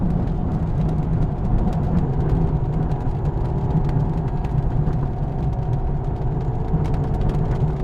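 A Jeep fitted with a Gobi roof rack and a new windscreen cruising along, with a steady low engine and road drone plus a constant whooshing wind rush and no pauses.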